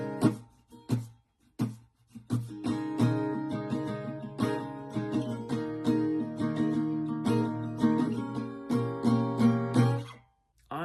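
Acoustic guitar strumming through the second half of pre-chorus 2: a few sharp muted strokes open, then sustained chords strummed in a rhythmic pattern, close and clear with no voice.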